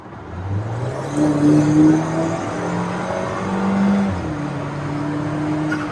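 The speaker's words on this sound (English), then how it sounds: "that was an effortless acceleration there, and it's hearing that turbo spool" An Alfa Romeo 4C in dynamic mode accelerates hard from inside, with the engine note climbing through gears and a turbo whistle and spool riding over the steady rumble.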